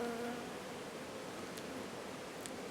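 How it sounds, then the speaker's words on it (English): Steady, dense buzzing of many honey bees around a hive frame at close range, a continuous hum with faint rustling and no voices. "they just fly off back home because there's still quite a lot of bees on there"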